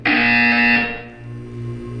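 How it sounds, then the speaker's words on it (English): A loud electronic buzzer blares in a Portal 2 video game test chamber, a harsh tonal alarm that holds steady for about a second before dropping to a lower sustained hum, with no speech. "You will hear a buzzer. When you hear the buzzer, look down at the floor."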